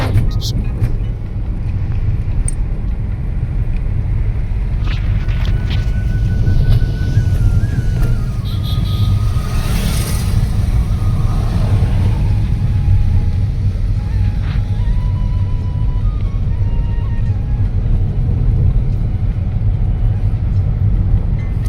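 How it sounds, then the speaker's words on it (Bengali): A car drives along a road past a sal forest near Siliguri, a steady low engine and road rumble with wind noise throughout, with people talking inside. "আচ্ছা, ও ড্রাইভিং করছে।"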